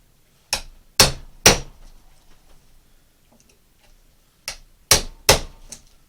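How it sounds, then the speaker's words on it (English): A mallet drives a chisel to cut a timber-framing-scale mortise into a carved wooden canvasback duck decoy. Six sharp, close knocks land in two bursts of three, separated by a quiet pause. "this is really a timber framing scale mortise that we're cutting here in this little duck decoy"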